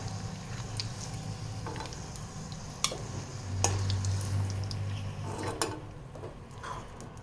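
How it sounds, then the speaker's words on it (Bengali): Potatoes frying in a pan for a vegetarian Bengali aloo dum, a low steady sizzle with occasional sharp clicks and scrapes as pieces are stirred and lifted out. "আলু ভাজা হয়ে গেছে, এবার এক এক করে আলুগুলো তুলে নিচ্ছি।"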